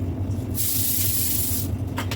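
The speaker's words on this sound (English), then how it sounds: "I am just going to grab my extra virgin olive oil spray" A burst of extra virgin olive oil from a spray can, one steady hiss of about a second, sprayed over food before foil goes on top, loud and close with no talking.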